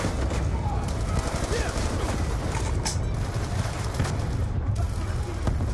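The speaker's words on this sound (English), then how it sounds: "Someone's shooting at me." Dense, continuous automatic gunfire in Call of Duty Black Ops 2, a loud unbroken rattle of rapid shots with booming impacts filling the whole stretch, no clear voices over it.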